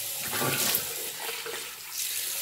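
Warm tap water runs and splashes in a steady stream onto a shaving brush, close by, varying slightly as the brush is moved under it; no speech.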